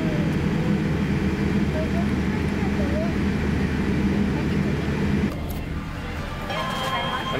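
A steady low rumble of jet engines and cabin noise drones on inside an ANA airliner taxiing after landing at Haneda Airport at night, easing slightly near the end.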